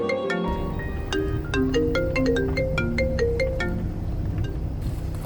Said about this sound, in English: And then out of nowhere I started getting an unexpected phone call.